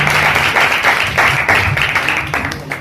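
Audience applause at a gift ceremony, a loud, dense patter of many hands clapping in waves, close and steady throughout.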